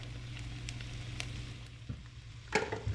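Cut-up onion fries in a pan, one cup's worth, giving a steady soft sizzle punctuated by a few sharp scraping and clinking stirs near the end.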